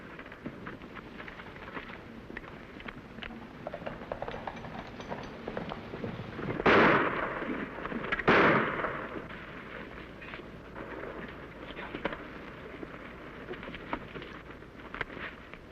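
Two loud, broad gunshot blasts about two seconds apart in a western shootout between settlers behind a wagon and masked riders, set over a continuous rough background rumble, with no talk during the shots.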